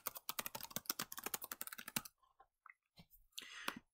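Brisk typing on a computer keyboard, a quick run of close, crisp key clicks for about two seconds, then a few scattered taps and clicks with brief quiet gaps between them.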